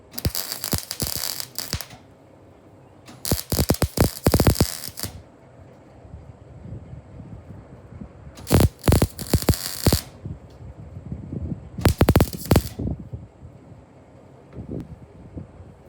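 Welding on the base of a metal sculpture at an outdoor sculpture park, with several loud bursts of harsh crackling hiss separated by quieter stretches of wind and faint mechanical clicks.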